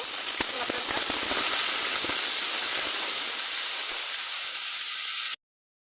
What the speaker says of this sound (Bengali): পেঁয়াজগুলো আমি দুই মিনিটের মতো ভেজে নিব